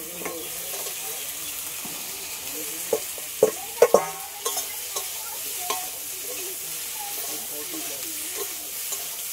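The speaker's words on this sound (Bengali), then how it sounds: "এগুলো একটু একসাথে ভালো করে ভেজে নিয়েছি।" Potatoes and plantain frying in a pan with turmeric: soft, continuous sizzle with a cluster of sharp stirring clatters near the middle and lighter scrapes afterward, no talking.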